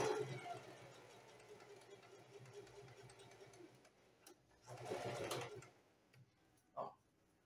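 A sewing machine stitches the border of a dish towel, a quiet rapid mechanical whir in two bursts separated by a pause, ending with a short clunk, with no speech over it.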